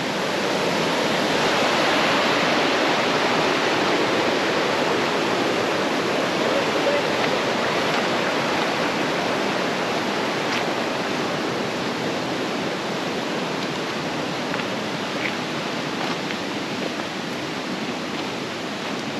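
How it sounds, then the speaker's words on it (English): Richland Creek flowing at a trail crossing in the Ozarks: a close, steady rush of water that holds a constant broadband hiss throughout. "So this is where we cross Richland Creek to go to Twin Falls"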